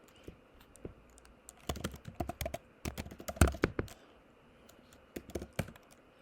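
Short bursts of computer keyboard keystrokes typing a single command, crisp close clicks in uneven clusters with brief pauses, no talking.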